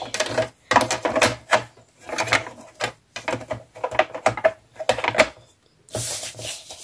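Paper being cut for a scrapbooking pocket card, with repeated crisp cutting strokes in quick bursts separated by short pauses, close and fairly loud, alone without talk.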